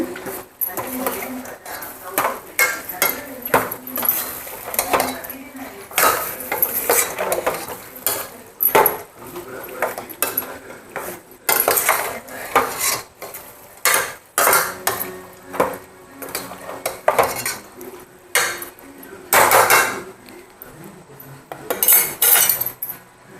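Chicken stirred with turmeric in a metal pan, a utensil scraping and clinking against the pan in steady, uneven strokes that run close and fairly loud throughout, broken by short pauses.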